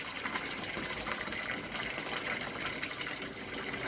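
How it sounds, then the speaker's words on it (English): Water flows steadily into an aquaponics system, a continuous gushing, splashing wash that holds even and moderately loud throughout with no pauses. "I suspect that the water's on a little bit too hard."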